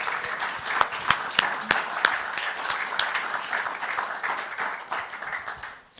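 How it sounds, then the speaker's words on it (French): Audience in a hall applauding Pascal Jacob: steady dense clapping with sharper individual claps standing out, moderately loud, tapering off toward the end. "Je crois qu'on peut l'applaudir."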